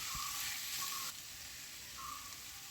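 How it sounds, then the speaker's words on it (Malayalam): Cumin seeds sautéing in a pan for butter chicken crackle and sizzle up close, with a brief dip in intensity partway through and no voices. "ജീരകം കൂടി ചേർത്ത് നന്നായിട്ട് ഒന്ന് വഴറ്റിയെടുക്കാം."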